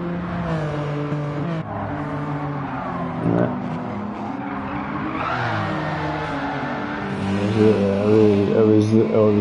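Race cars in Gran Turismo 7 at Watkins Glen, a BMW among them, with engines droning and shifting pitch as they rev and accelerate, plus a brief tire squeal, running steadily under someone talking.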